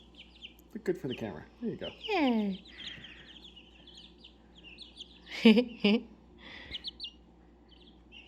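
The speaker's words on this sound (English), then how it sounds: "Hello, chicken." Chickens of mixed varieties, including black hens, call and cluck on a one-acre homestead, brief chirpy bursts near the microphone, with people talking in between.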